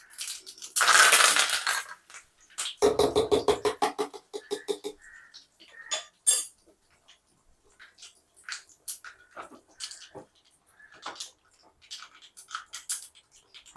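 Mustard and spices tempered in hot oil in a kadai for coconut chutney pop and splutter: loud bursts of crackling sizzle, then scattered sharp pops fading off, close to the pan.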